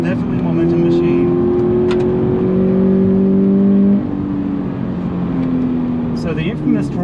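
A naturally aspirated 2020 Subaru BRZ Limited with the Performance Pack revs up through its power band, engine tone climbing in steady harmonic sweeps, then dropping off as it shifts and pulls again, loud and close.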